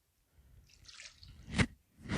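Half a cup of water poured into pistachio cake batter, a soft wet splash and squish that ends in one sharp, close liquid plop.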